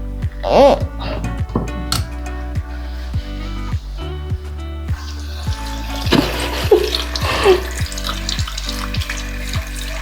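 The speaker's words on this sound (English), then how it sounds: "run it under some water as you roll it" Tap water runs steadily over a big, fluffy, round makeup brush as it is rolled under the stream. A person talks over the splashing, and soft music plays in the background.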